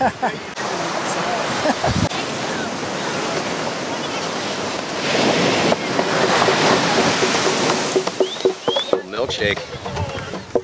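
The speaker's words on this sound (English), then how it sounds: "Waves have been good." Ocean waves breaking and washing up a skimboarding beach, a loud rolling surf roar that swells and recedes, with people talking over it and a few bird calls near the end.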